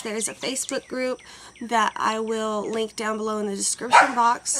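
Dogs bark in short sharp bursts scattered through the moment, a few loud yips standing out near the end, all underneath a person talking steadily.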